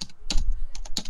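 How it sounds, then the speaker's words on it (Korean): Close computer keyboard typing during an online game, a quick run of crisp key clicks and clacks in uneven bursts with no voices. "키보드 소리가 다 어디서 거기서 근데"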